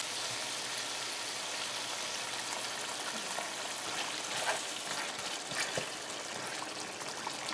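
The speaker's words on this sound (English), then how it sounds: "So we're gonna add some water now." Water hisses into a hot pan of seasoned stewing pork with a steady sizzle and a few soft splashes, faint and even throughout.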